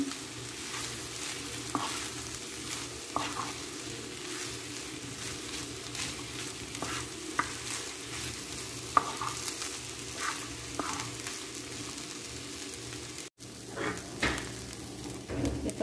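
Leftover rice being stir-fried with vegetables and shrimp: a steady, close sizzle runs throughout, with scattered scraping clicks of the spatula and a brief dropout near the end before the frying resumes.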